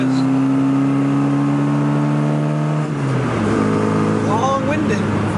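A 1967 Mini Cooper S with a bad second gear, its engine droning steadily as it pulls and holds a gear, then rising in pitch after a shift, heard loud from inside the car with voices talking.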